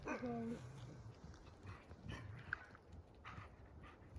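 Dogs in an outdoor setting near a lake in the Komi Republic, heard as a few short, high yelps and barks near the start, then fainter scattered sounds over wind and background noise, with a person talking.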